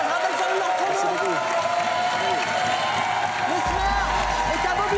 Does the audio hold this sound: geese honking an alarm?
no